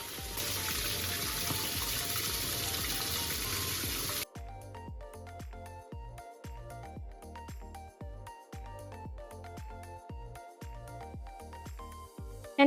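Running water splashes steadily over a custom cap with reflective heat-transfer vinyl as it is washed; a continuous gush for about four seconds gives way to rhythmic, lighter splashing and dripping.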